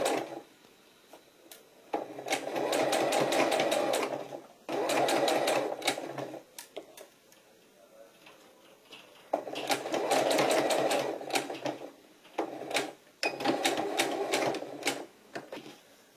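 A sewing machine topstitches a zipper on a fanny pack, sounding as repeated bursts of rapid mechanical stitching with short pauses and sharp clicks between runs, close and loud, with no talk.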